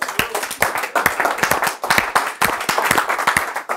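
A crowd claps hands in a dense, uneven burst of applause at a church ministry teaching session, loud and close, lasting several seconds.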